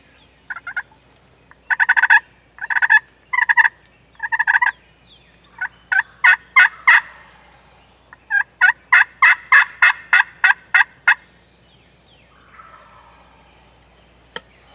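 A wild turkey tom in Iowa spring woods gobbles repeatedly in loud, clear bursts, several gobbles in close succession with short pauses, fairly near and alone without talk.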